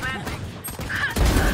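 A grenade explodes in Valorant as a loud, close, rumbling blast with crackling gunfire around it during a tense round.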